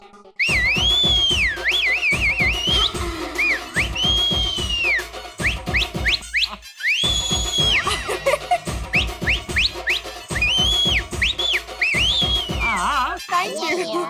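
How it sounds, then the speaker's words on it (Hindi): A man whistles a lively, warbling tune at an indoor gathering, loud and close, with a steady beat underneath and a short pause in the middle before the melody carries on. "ये बराबर है, सीटी तो बजानी पड़ेगी।"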